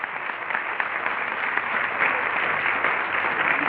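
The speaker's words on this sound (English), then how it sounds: "Let's give them a round of applause." An audience at a multicultural leadership day opening session applauds the breakfast sponsors with steady, dense clapping from a roomful of people, continuous throughout.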